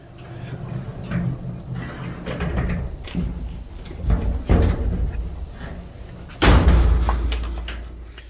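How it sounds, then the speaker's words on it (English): Door shut in a workshop on a day of bad weather, a couple of rustling thuds and then one heavy slam, close and loud, followed by a low rumbling tail and some background shuffling. "Shut the door."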